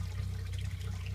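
Water runs down a Martin plasma-cutting water table indoors as a continuous low rushing flow with a steady trickle, close and moderately loud, with no voices.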